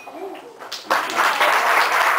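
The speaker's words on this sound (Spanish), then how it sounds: "Recibamos con un gran aplauso el primer saxo alto, el señor Jonathan Gatica." After a quiet moment, an audience breaks into applause for an alto saxophonist at a big band jazz concert, the clapping rising suddenly and continuing steadily.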